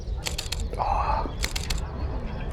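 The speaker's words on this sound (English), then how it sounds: "The azure magpie is right in front of our faces right now." An azure-winged magpie in a park gives a harsh, raspy, crow-like call at close range, with quieter clicks and rustles around it.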